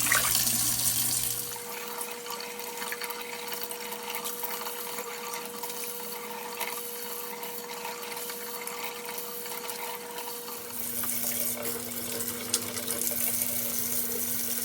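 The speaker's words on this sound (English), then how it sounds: "I'm cleaning everything off together, collards and the kale and some cabbage" Tap water runs steadily into a kitchen sink while collard greens, kale and cabbage are washed together, a continuous close rushing with a humming pump tone shifting pitch partway through and faint splashes.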